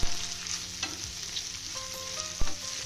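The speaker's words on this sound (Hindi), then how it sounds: "अब हम मसालों के साथ पनीर को मिक्स कर देते हैं" Paneer cubes fry and sizzle with spices in a hot pan for a street-style masala Maggi, a steady close crackle broken by occasional scraping knocks of a spoon stirring.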